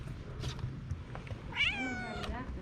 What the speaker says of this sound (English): Skinny little kitty cat.